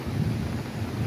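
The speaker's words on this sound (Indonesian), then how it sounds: "hujannya itu nggak tahu, nggak mau berhenti." Heavy rain pours during a storm in Taiwan, a loud, steady, dense roar with a low rumble underneath and no voices.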